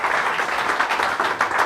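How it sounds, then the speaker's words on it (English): Applause from a crowd at a VFW post comedy night, a steady dense wash of clapping that holds evenly for the whole short stretch with no voices on top. "So give Ronnie McNeil a big round of applause."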